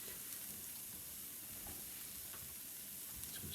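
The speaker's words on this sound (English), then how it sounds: "Just going to stir it up a little." Onions fry in a pan while being stirred, a quiet continuous sizzle with soft scraping stirs, close and without voices.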